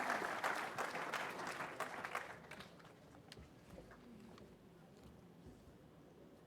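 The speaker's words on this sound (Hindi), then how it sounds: "और एक बार फिर जोरदार तालियों के साथ स्वागत माननीय राज्य मंत्री जी का।" Clapping from a gathered audience welcoming a state minister at a National Cadet Corps event, fairly loud at first and then thinning to a quieter patter.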